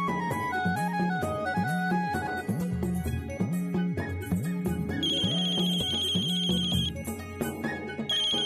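A mobile phone ringtone plays a repeating electronic melody with a steady looping rhythm, loud and clear, in a Marathi TV serial scene with no talk over it.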